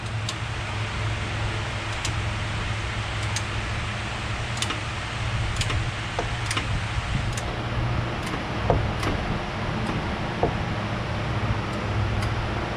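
Torque wrench giving faint, evenly spaced sharp clicks while tightening a rear toe arm bolt on a Nissan 300ZX, heard over steady broadband background noise.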